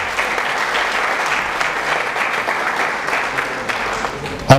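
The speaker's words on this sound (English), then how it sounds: "Let's have a big clap for our President" A large audience claps steadily at a Pan-African peace event honoring the President, a dense, sustained wash of applause throughout with a louder burst at the very end.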